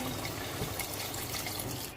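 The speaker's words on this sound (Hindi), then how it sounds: "ये अब हम जो है 1 गिलास के करीब इसमें पानी डालेंगे।" About a glass of water is poured into a cooking pot of cut potatoes for a chicken kofta gravy, a continuous close splashing and gurgling stream.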